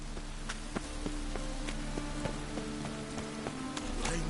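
Steady rain hissing down in the video game The Witcher, a constant close patter of drops with faint ticks and taps, alone without speech.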